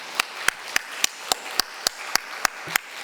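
A Korean church congregation at a Sunday morning service claps in unison, with about ten evenly spaced, crisp claps sounding close and clear over a quiet room.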